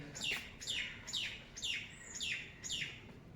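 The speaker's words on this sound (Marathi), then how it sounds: "पक्ष्यांचे आवाज पण येतात बघा वेगवेगळे पक्ष्यांचे आवाज" Birds chirp in a repeated pattern, six quick descending tweets evenly spaced, fairly faint against a soft outdoor background.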